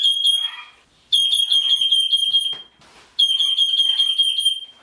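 A rosella parrot mimics a fire alarm with shrill, high-pitched beeping in three bursts separated by short pauses, loud and close.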